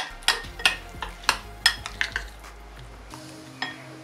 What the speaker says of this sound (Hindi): दही को अच्छी तरह से मिक्स कर लेंगे